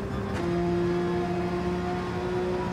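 Steady race car engine drone from a sim racing game during an open lobby race, a continuous mid-pitched hum held at constant revs throughout, fairly loud and without speech.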